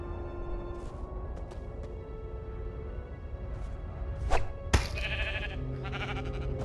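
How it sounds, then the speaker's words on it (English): A sheep bleats in the Minecraft Story Mode video game. The bleat is a short, bright call that stands out over steady background game music and ambience. "A sheep?"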